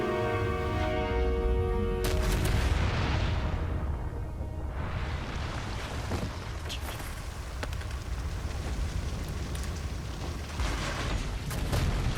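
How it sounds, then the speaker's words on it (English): A bomb goes off in a Honkai Impact cinematic, a loud broad blast that swells and rushes outward, then settles into a dense, rumbling wash of debris and noise. "That's a bomb"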